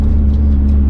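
A turbocharged Honda D16 with an eBay turbo kit on a stock ECU accelerates at full throttle, a loud, steady engine roar that fills the short moment.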